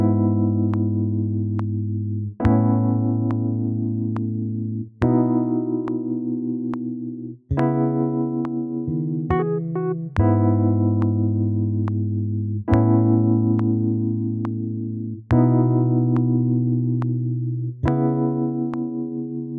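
Ample Bass J virtual bass guitar played from a keyboard, picking out a steady bass line of sustained notes, one roughly every two and a half seconds with a few quicker notes in the middle, loud and close, no talking.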